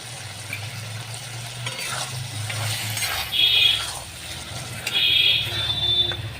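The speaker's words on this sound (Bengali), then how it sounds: "এবার আমি ভেজে রাখা চিংড়ি মাছগুলো দিয়ে দিচ্ছি" Prawns fried earlier go into a hot pan of taro stolons (kochur loti) with a splash of water, giving a steady close sizzle and stirring with a few brief bright metallic scrapes and clinks.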